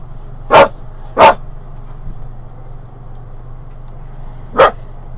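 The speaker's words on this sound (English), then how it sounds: "Dog is barking, I don't know why." A female dog barks three times, two quick barks close together and then one more after a pause. The barks are sharp and fairly close, over a steady low indoor hum.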